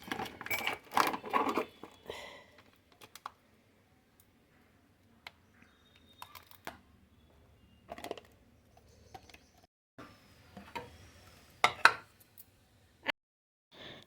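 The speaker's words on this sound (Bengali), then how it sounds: "এইখানে একটু কেটে নিচ্ছি টমেটো, ছোট ছোট টুকরো করে নিচ্ছি" A knife chops tomato into small pieces on a board, giving scattered, irregular taps and clicks at close range, some loud and some faint, separated by quiet gaps.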